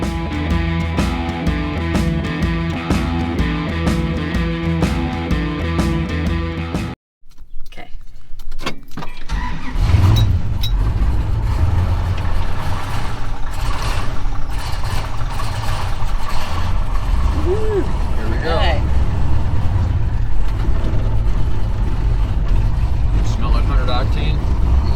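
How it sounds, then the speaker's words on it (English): A 1971 Plymouth 'Cuda with a Hemi V8 driving, its deep engine rumble filling the cabin under a steady drone, after a short burst of music at the start; a voice is faintly audible. "Now, let's go for a ride."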